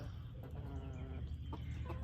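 Chickens cluck softly nearby in short, scattered calls over a steady low hum, with no talking.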